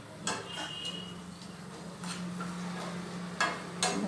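Mustard paste and water stirred in a pan: a utensil scrapes and clinks against the metal in a few separate strokes, over a low steady kitchen hum.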